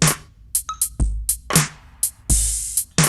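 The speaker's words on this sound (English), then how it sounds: "So we have a neo-soul category here, and then the preset is called Astro Laidback" Drum machine pattern from a Beat Scholar neo-soul preset, a laid-back groove of crisp hi-hat and snare hits over deep kick thumps, with a brief tonal chime, loud and close with no talking.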